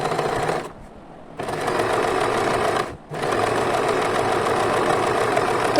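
A sewing machine stitches a puff sleeve in long, large-stitch runs, a close, steady mechanical whir that stops twice briefly before starting up again.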